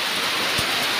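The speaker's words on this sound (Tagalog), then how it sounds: "Hindi, ang lakas ng ulan." Torrential rain falls during a storm, a loud, unbroken wash of hiss with a brief low thump partway through, no voices over it.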